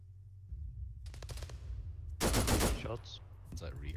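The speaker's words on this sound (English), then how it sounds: "Shots." Gunfire in the military shooter Arma 3: a quick burst of several sharp shots, then a louder, dense volley a moment later, with quieter reports trailing off at mid distance.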